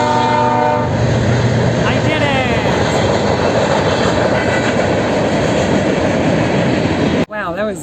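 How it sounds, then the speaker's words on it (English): A train rolls past close by, its loud horn sounding over steady rumble and clatter of the wheels on the rails, while a person talks briefly near the end. "A train."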